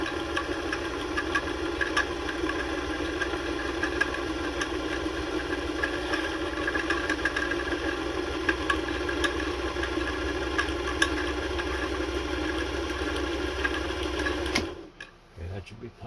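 A Singer 221 Featherweight sewing machine runs at a steady, moderate speed while winding a bobbin, giving a continuous close whirring hum with faint ticks for about fifteen seconds before it stops abruptly.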